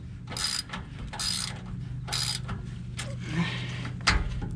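A ratchet works a 13mm bolt holding a small bracket in front of the driver's side rear axle under a 1980-1997 Ford truck, giving bursts of close, loud clicking over a steady mechanical hum, and no voices.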